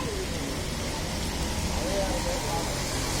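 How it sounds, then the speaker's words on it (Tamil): A sudden rain shower pours as a steady, loud broadband hiss of rainfall, with a voice speaking faintly over it. "ஃப்ளாஷ் ரெயின் சடனாக மழை வந்துச்சு"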